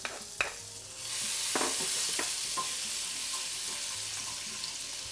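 Lemon zest and grated garlic land in hot oil with fragrant coriander, a couple of sharp taps giving way to a loud, steady hiss and sizzle that holds close and even.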